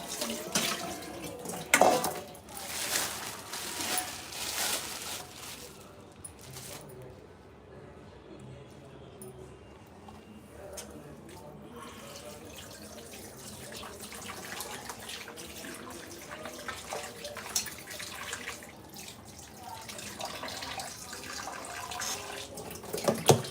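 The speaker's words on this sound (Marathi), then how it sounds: "दोन ते तीन पाण्याने धुवून घ्यायचं स्वच्छ एकदम आणि सगळं पाणी निथळून पण घ्यायचं" Raw chicken is rinsed under a running kitchen tap, with steady water splashing into a sink and occasional clatters as the pieces are handled. A person talks faintly at times.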